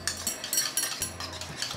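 Masala for egg paratha being mixed in a bowl, with light repeated clinks and scrapes of a spoon against the bowl, close and steady, no talking.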